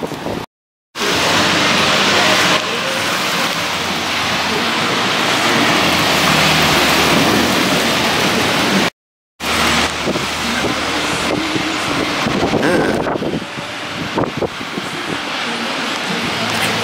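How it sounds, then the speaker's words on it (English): Wind and heavy rain roar continuously from a Detroit thunderstorm, buffeting the microphone in a steady loud wash with two brief dropouts. "Thunderstorm, Detroit."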